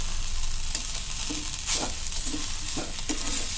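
Ingredients for ridge gourd chutney fry in a pan with a steady close sizzle, broken by a few soft scrapes and stirs, with no talking.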